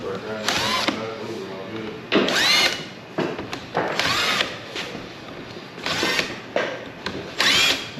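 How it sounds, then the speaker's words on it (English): A power drill fitted with a self-centering bit bores shallow pilot holes into plywood shiplap for a hinged floating mantel, sounding as a series of short whirring bursts close by, separated by pauses. "I'm just using a self-centering drill bit or a mix bit"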